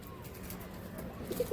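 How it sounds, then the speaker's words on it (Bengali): Pigeons in a loft give soft low coos, a couple of brief ones near the end standing out over a steady murmur of background noise. "এই দোয়াজ পায়রা"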